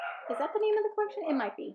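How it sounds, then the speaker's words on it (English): Small dogs barking and yapping indoors in rapid bursts, loud and close, mixed with someone talking over them during a scrapbooking session. "I'm really, really sorry about my dogs, and I hope my mic isn't picking up how loud they are."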